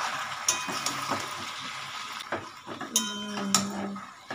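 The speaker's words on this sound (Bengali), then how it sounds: "এবার আমি এটা আবার নাড়তে থাকবো।" Chicken curry being stirred in a pot: sharp, irregular clinks and scrapes of a spoon against metal over a faint simmer, close up and without speech.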